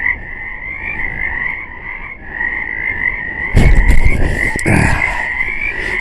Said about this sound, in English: You hear these frogs? I'm very happy to have frogs.